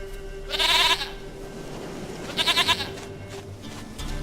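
Two distinct goat bleats from The Witcher 3 video game, the first a sustained cry and the second a shaky, pulsing bleat, both close and loud over a constant low in-game ambience.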